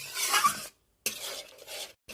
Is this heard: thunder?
no